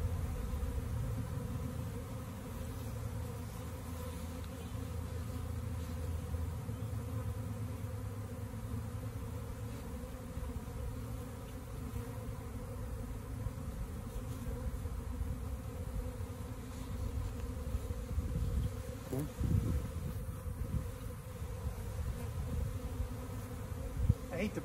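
A honeybee swarm of roughly twenty thousand bees buzzes as a continuous low drone that stays steady and close throughout, with a few brief knocks near the end and no talk.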